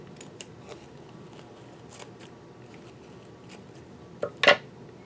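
Scissors snip paper while making a flower card: faint quiet rustling and small clicks, then two short crisp cutting snips close by near the end.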